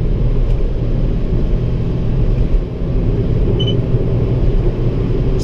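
An Audi A6 C5 2.4 quattro drives at speed, a loud steady low engine and road rumble heard from inside the cabin, with no talk.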